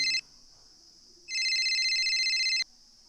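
An electronic phone ring sounds in two bursts, a short one then a longer trilling one, clear and close in an otherwise quiet room.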